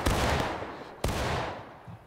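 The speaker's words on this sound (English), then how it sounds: "Commence firing." Musket volley in the War of Rights video game: two sharp, loud gunfire blasts about a second apart, each followed by a long rolling echo that fades out.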